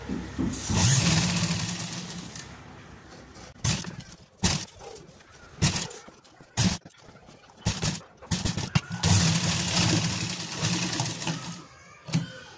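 A sewing machine stitches a garment collar in several bursts of motor whir separated by pauses, close and fairly loud, with no talking.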